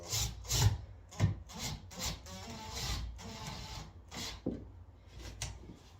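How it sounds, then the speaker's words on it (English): A hand screwdriver drives a screw while a wooden door is being hung, a series of close, quiet, rhythmic rasping twists with short pauses between turns. "I'll just get most of it in and then tweak it. With this hand screwdriver."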